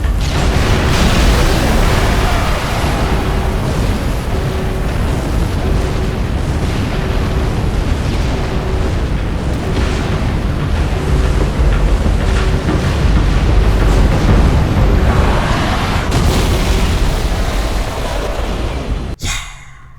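Loud, continuous battle noise from fighting a scarab in Halo 3, with heavy rumbling explosions and booming blasts blending into a dense roar that cuts off abruptly at the end.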